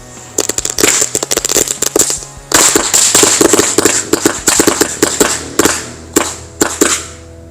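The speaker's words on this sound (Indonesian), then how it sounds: "kita lihat hasilnya dari mercon smoke bank 3 kali shoot" A rapid string of sharp firecracker bangs crackling for several seconds from a pack set off in a hole in the ground, dense bursts with brief pauses, then a few last isolated pops. Loud and close.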